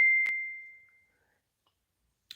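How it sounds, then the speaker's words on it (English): An old phone's notification chime rings out close and clear, a single bright ding with a short tap, ringing down over about a second into silence before a faint click at the end. "this old phone is going off like crazy"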